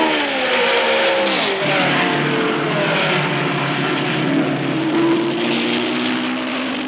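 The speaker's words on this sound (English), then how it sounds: "Foyt roars out of the pits" A race car roars out of the pits onto the track, a loud sustained engine howl climbing in pitch as it accelerates, with steady engine roar filling the whole stretch.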